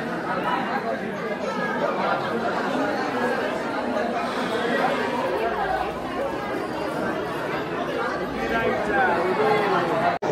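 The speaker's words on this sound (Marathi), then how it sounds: "खूप सारी गर्दी आहे." Dense crowd chatter from devotees queuing at Ekvira temple, a steady, close wash of many overlapping voices that holds level throughout with no single voice standing out.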